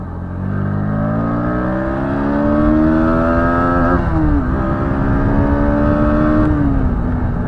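A 2025 Bajaj Pulsar NS125 125cc motorcycle engine revs hard toward its RPM limit, its loud buzzing tone climbing steadily, dipping briefly as the throttle shifts, then rising again, up close and without voices.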